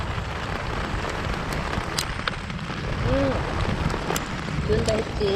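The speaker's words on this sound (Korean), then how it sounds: "아이고 갑자기 이리 비가 오네 또." Heavy rain pours onto a reservoir during a fishing outing, a dense, steady roar of drops hitting water and surfaces that swells slightly partway through, with occasional faint sounds over it.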